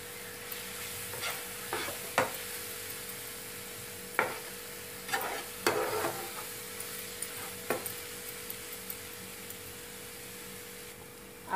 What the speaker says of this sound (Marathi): आपण ह्याला कमी गॅसवर तेल सुटेपर्यंत परतून घेऊ.